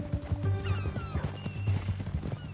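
Horse hooves clip-clop in Red Dead Redemption 2, a close, rhythmic run of hoof strikes mixed with a brief whinny and game ambience, with no talking.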